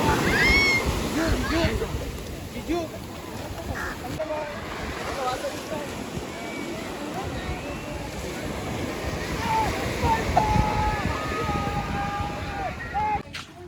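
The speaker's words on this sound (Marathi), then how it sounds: "लाटा पण वाढत चालल्या." Sea waves break and wash onto Goa's beach, a steady surf roar rising and falling, with wind buffeting the microphone and people talking nearby throughout.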